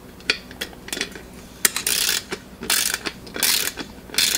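A wrench tightens a threaded pipe fitting with thread tape on a Harbor Freight paint pressure tank, giving close, loud ratcheting clicks in quick bursts separated by short pauses, with no talking.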